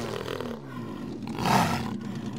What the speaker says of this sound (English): The purr of a jaguar